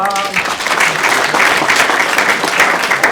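A startup pitch night audience gives a loud, dense round of applause, steady clapping filling the room for a few seconds.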